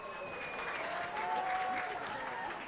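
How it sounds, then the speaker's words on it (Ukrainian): Sustained applause from local fans at a football match rolls on steadily while a commentator keeps talking over it. "І бачимо оплески від місцевих болівальників."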